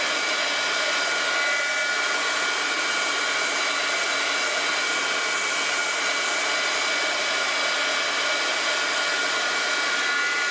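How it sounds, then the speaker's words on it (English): A very old heat gun blows steadily, a continuous broadband hiss and whoosh that stays even and fairly loud throughout, with no voices. "It does take a few seconds to heat up. This is a very old heat gun too"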